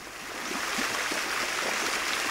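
Water running through narrow channels in a symmetrical palace garden, a soft continuous rushing and gurgle, steady and moderately distant, with no voices.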